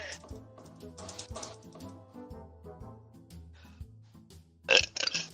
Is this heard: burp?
yes